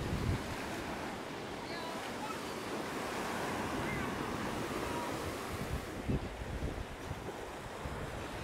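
Calm ocean waves washing onto the beach at Santa Maria, Cape Verde, a steady soft surf roar with light wind noise, moderately faint and continuous.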